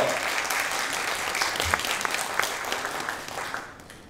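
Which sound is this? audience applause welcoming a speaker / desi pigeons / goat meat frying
audience applause welcoming a speaker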